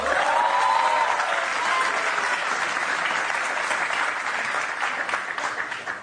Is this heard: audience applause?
yes